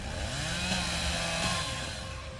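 A chainsaw in the video game Dead Island roars continuously at close range, its engine pitch wavering slightly as it revs, with no voices.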